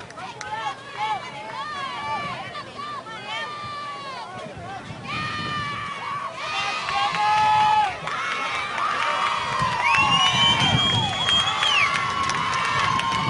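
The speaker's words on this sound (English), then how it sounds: "South Salem fans shouting some encouragement, trying to match the applause for the North Medford crew" Fans at a high school softball championship game shout and cheer loudly in a rowdy, continuous crowd roar with many overlapping voices and children's shrieks, swelling toward the end.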